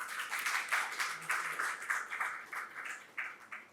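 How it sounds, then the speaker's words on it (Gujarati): An audience of a lecture gathering claps to welcome the speaker, a steady patter of applause from a modest crowd that rises and fades in waves. "આપણે સૌ વક્તા મહોદયને તાળીઓથી વધાવીએ"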